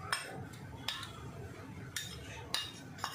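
A spoon scrapes and clinks against a pan while grated fresh coconut is stirred in warm ghee for kheer, with a few sharp metallic taps spaced through a soft background rustle and no voice.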